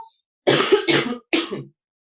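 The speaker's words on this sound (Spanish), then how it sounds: "yo dije que iba a toser" Three rough, close coughs from a speaker during a talk on innovation, two run together and then a short pause before the last one.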